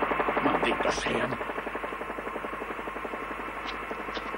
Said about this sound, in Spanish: Intentan escapar en los helicópteros.